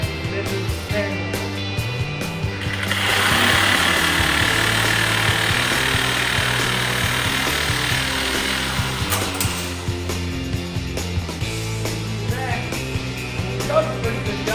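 A power tool cuts through a part on a 1960 Ford F100 panel truck, starting after a few seconds as a loud sustained grinding whine, then dropping off and giving way to intermittent clatter and shop noise.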